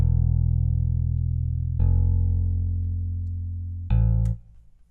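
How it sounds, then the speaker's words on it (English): Sampled 70s J bass from IK Multimedia Moto Bass 2, played with partial muting: three long sustained low notes, each fading gradually, with the last cut off abruptly, solo and without talk. "The one I chose to use is Moto Bass 2 by IK Multimedia"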